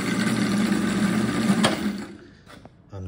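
A 36V brushless motor driven by a 500W BLDC controller whirs with a steady mid-pitched hum and whine for about two seconds, then spins down and falls quiet before a short final burst.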